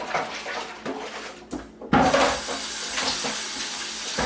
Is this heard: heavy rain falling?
no